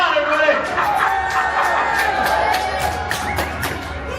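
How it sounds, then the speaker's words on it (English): A ballpark crowd cheers on a kid during a between-innings promotion, a noisy mix of shouts, whoops and children's voices with babble throughout. "Cheer him on, everybody."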